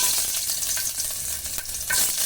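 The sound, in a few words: cinnamon, cloves, ginger and garlic frying in hot oil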